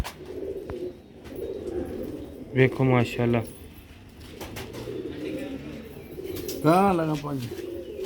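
Pigeons coo in soft, repeated calls that stand out in two clear bursts over a low background, while someone talks throughout.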